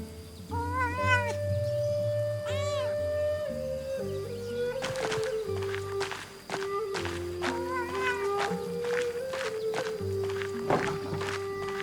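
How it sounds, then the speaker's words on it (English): A wild cat meows several times in the video game Pentiment, rising and falling calls over a soft musical backdrop with light footstep-like taps. "We'll pet the cat. It's a wild cat."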